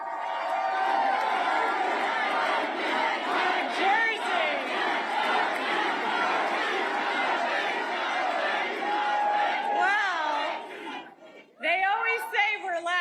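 Election night crowd cheering for New Jersey's newly elected woman governor: a loud, sustained roar of many voices with shouts and whoops, dipping briefly near the end before swelling again.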